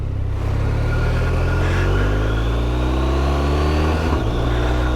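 A BMW R1250RS TE motorcycle engine pulls hard on an open road, its revs climbing steadily through the gears in a loud, continuous, close-up drone with a brief dip near the end.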